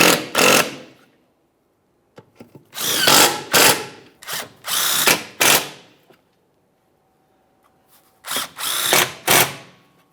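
Power tool snugs transmission mount bolts on a 2011-2021 Jeep Grand Cherokee with a 3.6L V6, heard as several short, loud whirring bursts up close with silent gaps between them.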